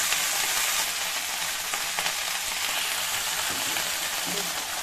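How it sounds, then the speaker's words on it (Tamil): Ginger and dried red chillies frying in a pan for a mint, coriander and curry leaf chutney, giving a steady, close sizzle with faint stirring scrapes throughout. "இஞ்சியும் காஞ்ச மிளகாவும் நல்லா வறுத்துருங்க."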